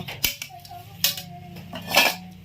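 Metal clanks and scrapes as a deep camping cooking pot is handled, three sharp close knocks with lighter rattles between them.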